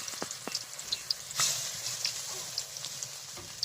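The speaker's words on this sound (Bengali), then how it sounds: "এখন আমরা গরম তেলের উপরে ছেড়ে দিচ্ছি" Battered pumpkin flowers crackle and sizzle in hot oil, a light, uneven spatter of small pops over a quiet steady hiss, close and fairly soft.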